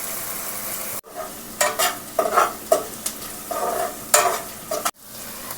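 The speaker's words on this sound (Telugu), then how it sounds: "ఇప్పుడు ఆనియన్ అండ్ గ్రీన్ చిల్లీ వేసి కొంచెం ఫ్రై చేయాలి." Onion, green chilli and ginger garlic paste frying in a pan for chicken biryani, with steady sizzling broken by repeated scraping stirs and a few louder pan knocks, fairly close, with no talking.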